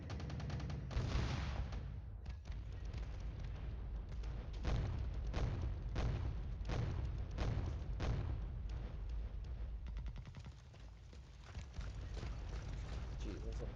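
Artillery fire from 122mm shells landing on cavalry scouts in the wargame Flashpoint Campaigns: Southern Storm, heard as a rapid, irregular series of heavy booming blasts that continues without pause and rolls on under a steady low rumble.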